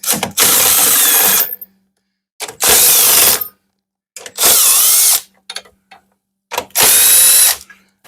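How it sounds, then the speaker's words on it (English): A power ratchet with a 13 mm socket buzzes in four loud, close bursts of about a second each, separated by silences, as it backs out the bolts on a 1995 pump nozzle. "I'm going to grab my 13 socket so we can take the nozzle all off."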